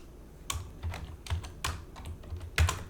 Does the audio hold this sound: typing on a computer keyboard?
yes